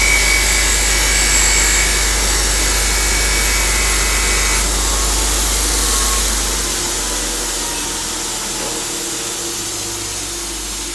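A slack belt sanding machine polishes a workshop piece, giving a loud, steady motor whir with a grinding hiss that gradually winds down and quietens over the final seconds.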